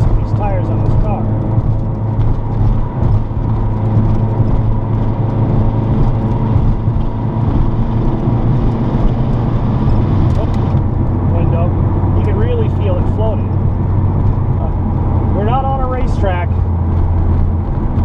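A car cruises on a road at about 65 mph, a steady low engine drone and tire roar with wind rush throughout, with someone talking over it.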